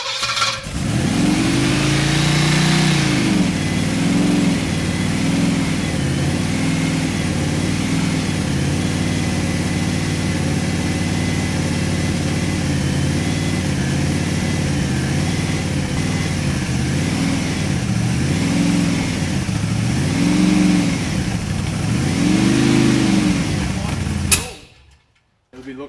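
A 1929 Ford Roadster engine, dormant for 20 years, runs roughly with repeated revs rising and falling over a loud, uneven rumble before cutting out abruptly near the end.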